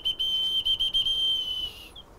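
A wooden or clay whistle imitates bird calls with one sustained, shrill, steady tone broken by a few quick flutters. The whistling runs for about two seconds and then stops.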